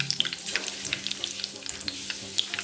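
Curry leaves crackling in hot oil with cumin, a dense sizzle dotted with rapid sharp pops, close and loud.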